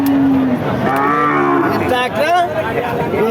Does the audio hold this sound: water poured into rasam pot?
no